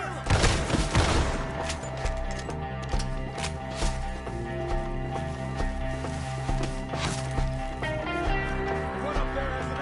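A firefight in Red Dead Redemption 2 sets off rapid, overlapping gunshots with booming reports against tense orchestral music, loud and sustained, and voices shout during the fight.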